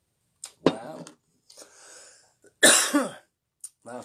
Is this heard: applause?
no